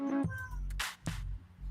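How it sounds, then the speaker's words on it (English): A house cat meows in a plaintive, baby-like wail, two short cries in quick succession, fairly close and moderately loud over quiet background. "If you hear what sounds like a baby in the background, that is my cat."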